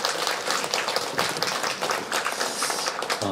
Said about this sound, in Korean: 우리 함께 박수로 축복하도록 하겠습니다